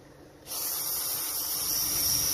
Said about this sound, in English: why it looks like I'm spraying up from the bottom of the car, which I actually am